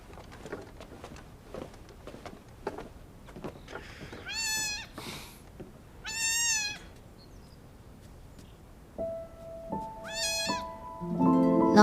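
A cat gives several loud, drawn-out meows with pauses between them, over faint background clicks, followed by a rising synthetic musical tone at the end.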